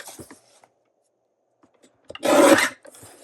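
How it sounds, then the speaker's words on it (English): Paper tags cut from book pages being trimmed to size, a faint few soft scrapes and then one close, rasping slice lasting about half a second. "So I'm going to go ahead and trim those."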